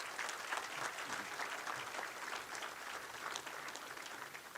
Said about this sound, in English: Let's give all of our inductees one final round of applause.